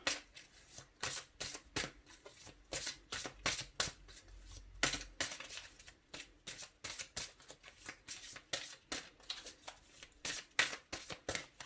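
Tarot cards are shuffled by hand in a steady run of quick riffling bursts, close and fairly quiet, with no voice over them.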